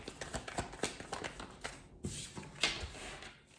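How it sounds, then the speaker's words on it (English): Tarot cards being shuffled by hand, a run of quick papery riffles and taps with brief pauses, close and fairly quiet. "These cards don't want to shuffle."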